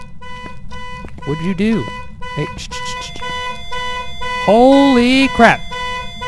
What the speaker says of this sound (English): Do I got to listen to that car beeping this entire time?